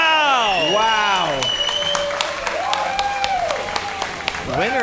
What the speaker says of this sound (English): That is a massive cheer from the crowd.